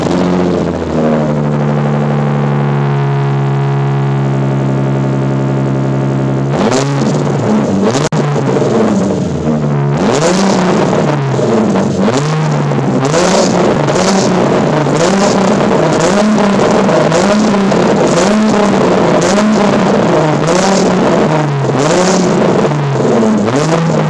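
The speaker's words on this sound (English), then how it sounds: "So it didn't shoot flames, but the sound of this car has definitely changed" A car fitted with Z1 Motorsports test pipes idles with a steady tonal hum, then its engine revs repeatedly in loud, sharp blips that rise and fall in quick succession, close and alone.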